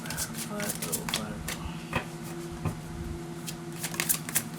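Tarot cards being shuffled for a Virgo reading, with soft irregular riffles and flicks of the deck close by while a person talks over the handling.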